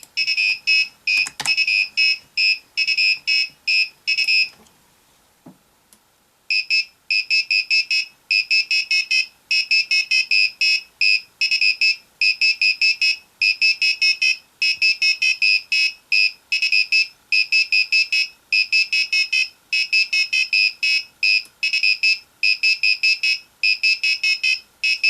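A piezo-electric buzzer driven by an Arduino board beeps out musical notes in quick, shrill pulses. A short burst comes first, then a brief quiet gap, then a long steady run of evenly spaced tones. The buzzer is loud and close, with no talking.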